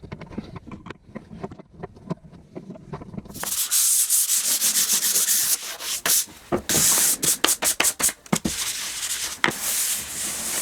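Brush strokes sweep finish across an old antique wooden furniture top, a soft rhythmic scrubbing that starts faint and turns loud and close, with repeated stroke bursts near the end.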